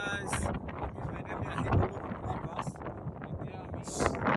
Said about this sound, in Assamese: ইমান বতাহ দি আছে